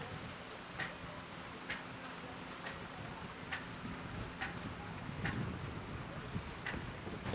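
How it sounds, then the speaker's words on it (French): Wind picks up along the shore in Mayotte as the tide comes in, a faint, steady gusty rush buffeting the microphone, broken by a row of soft, evenly spaced ticks. "Il y a un petit peu de vent qui se lève, c'est la marée qui arrive."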